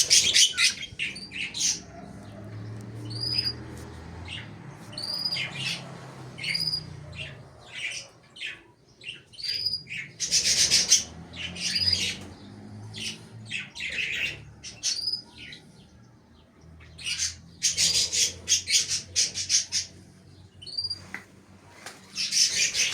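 Many birds in an aviary squawk and chirp in repeated bursts, some loud and close, with quieter gaps between the busy stretches and a low background rumble.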